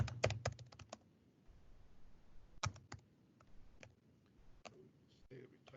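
Quiet clicks of typing on a computer keyboard come in short clustered bursts separated by pauses, close but faint, with a person speaking softly underneath.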